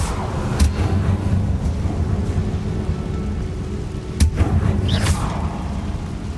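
Incendio fire spell in the Hogwarts Legacy video game: continuous rushing, crackling flame roar with low rumble, punctuated by two sharp snapping bursts, steady and close with no voices.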